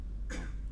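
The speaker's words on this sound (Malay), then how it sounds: "Berdehem pula kita sekuat-kuatnya." A single short throat clearing during a Malay-language religious lesson on prayer, a brief raspy burst heard alone over a low room hum.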